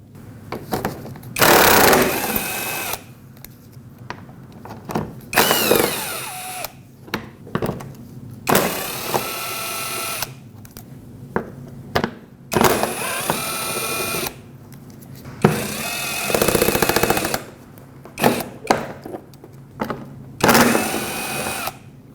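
A power tool spins out the 10mm bolts holding a plastic panel on a Nissan Frontier pickup, in repeated loud whirring bursts of a second or two, separated by short pauses.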